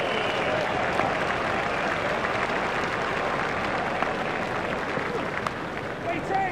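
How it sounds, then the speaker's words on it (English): A stadium crowd in the Cricket 2002 video game applauds in a steady, dense wash of clapping and cheering that holds at an even level throughout, with no talk. "The crowd are giving him a great round of applause as they appreciate the importance of this knock"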